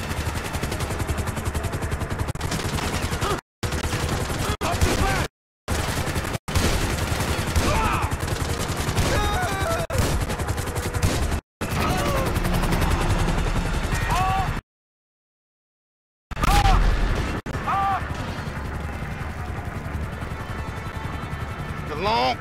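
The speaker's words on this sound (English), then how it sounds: "that chopper on us. Take it out!" Helicopter and gunfire during a Grand Theft Auto V shootout, with dense, loud bursts of shots and rotor noise filling the scene, broken by short silent gaps, with voices talking over the action.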